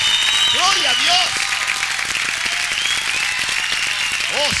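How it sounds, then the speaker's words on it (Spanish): A church congregation applauds at a Spanish-language service, dense steady clapping filling the clip while a preacher's voice rises and falls over it. "Denle un aplauso fuerte al Señor."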